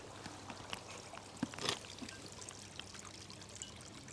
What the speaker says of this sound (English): Let me go and show you what a trickle looks like.